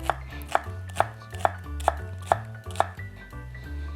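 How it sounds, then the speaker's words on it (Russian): A knife cuts through an onion on a board in quick, even strokes, about eight crisp taps in a steady rhythm, close up. "Нарезаем его такими полукольцами."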